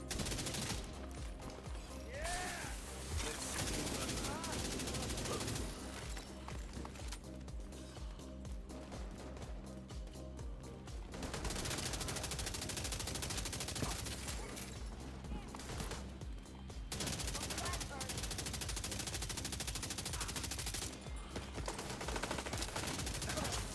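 Assault rifle fire in The Division 2, long stretches of rapid automatic shots repeating in bursts over several seconds each, loud and near, with a player's voice speaking between and under the shooting.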